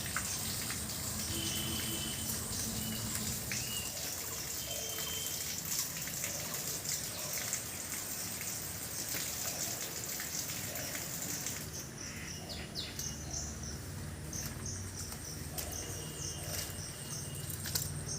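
Steady splashing and trickling of someone wading through muddy pond water while picking young taro leaves outdoors, continuous and fairly close, with bird sounds in the background and no talking.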